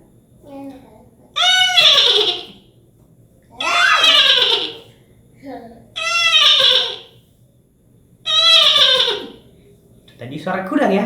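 A person imitates a horse's whinny four times in a row, each loud, wavering squeal lasting about a second with short pauses between.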